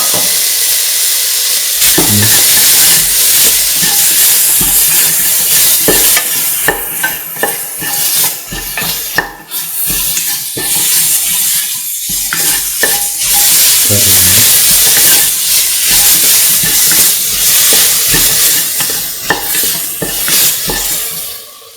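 Tomato pieces fry in a hot pan for duck coconut rice, a loud sizzling hiss broken by repeated scraping and clinking of a utensil stirring, close up and without speech.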